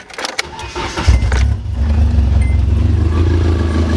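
A Nissan S14 being prepped for a roll cage, with a suspected coolant temperature sensor fault, cranks briefly after a jingle of keys, then catches and settles into a loud, steady close-up idle.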